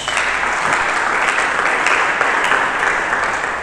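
A church congregation claps steadily and loudly throughout, dense applause filling the whole stretch without pause.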